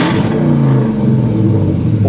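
Loud, deep V8 exhaust from a 2009 Dodge Challenger SRT8 running without mufflers, a steady close rumble that swells slightly as the engine revs, with no talk over it.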